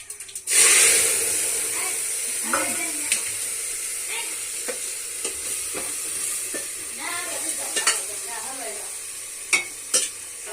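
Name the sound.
vegetable curry being tempered, sizzling in the pan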